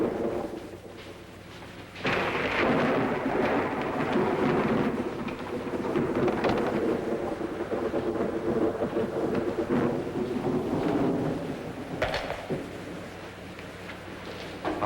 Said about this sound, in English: We'll get caught in the rain.